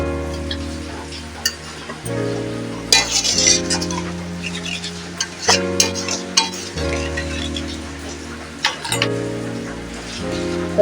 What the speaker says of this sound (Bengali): এবার আমি এতে জল দিয়ে দেবো পরিমাণ মতো জলটা যতটা প্রয়োজন